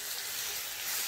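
Soaked dal stir-fried in a pan over low heat, a steady soft sizzle throughout, close and even, with no talk.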